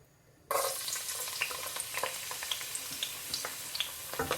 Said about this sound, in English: Then slightly going to fry